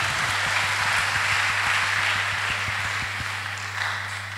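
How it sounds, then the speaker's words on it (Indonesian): Audience applause at a public lecture and book discussion: a steady wash of many hands clapping for several seconds in a hall, with a low electrical hum underneath, gradually thinning toward the end. "Boleh tepuk tangannya terlebih dahulu."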